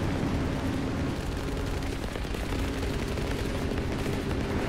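Dense, steady rattle of aircraft gunfire in the War Thunder flight game, a continuous hammering barrage that stays loud and unbroken throughout with no talking over it.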